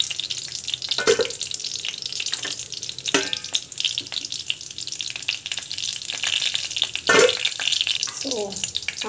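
Mustard seeds sizzle and pop in hot oil for a mixed vegetable sambar, a steady frying hiss with a few sharp clinks of a utensil, close by and without talk.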